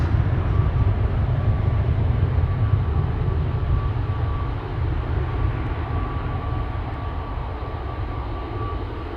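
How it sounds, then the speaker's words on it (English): Transavia airliner taking off at Amsterdam Schiphol Airport, a steady loud low jet roar with broadband rumble and a faint whine, sustained throughout and easing slightly toward the end. "Transavia taking off and the Transavia tugger also passing by"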